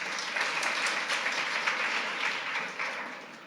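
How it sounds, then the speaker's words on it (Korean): A church congregation applauds during a Sunday sermon, a brief, fairly even wash of many hands clapping from a moderate distance that fades slightly toward the end. "박수 한번 쳐주시기 바라요."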